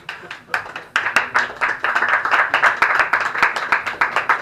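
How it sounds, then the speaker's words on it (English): A comedy club audience claps for comedian Jonathan Dick at the end of his stand-up set, starting with a few scattered claps and building into a loud, fairly sparse run of individual handclaps close by. "Round of applause for Jonathan Dick."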